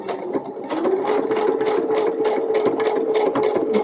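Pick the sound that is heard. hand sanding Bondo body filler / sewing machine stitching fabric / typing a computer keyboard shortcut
sewing machine stitching fabric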